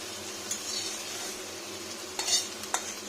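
Fritters (bora) frying in oil in a wide pan, a soft steady sizzle with occasional clinks of a spatula against the pan, close and fairly quiet, with nobody talking.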